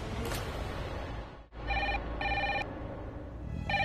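A telephone rings at midnight, with several short bursts of ringing in a quiet room, close and clear, separated by brief pauses.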